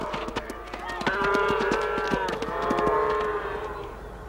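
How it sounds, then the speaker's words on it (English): A herd of cattle lowing in the arid Sahel, several overlapping drawn-out moos swelling and fading over scattered hoof knocks and clatter, fairly close and steady without voices. "Cattle are temperate animals."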